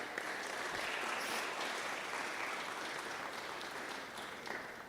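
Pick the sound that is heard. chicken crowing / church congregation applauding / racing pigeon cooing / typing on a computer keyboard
church congregation applauding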